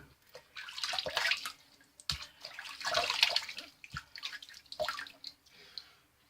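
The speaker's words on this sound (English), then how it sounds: "now I'm going to run some water on it again because it's kind of drying up from that." Tap water runs into a sink during a wet shave in a bathroom. It comes in several uneven splashing bursts separated by short quiet gaps, fairly soft and close.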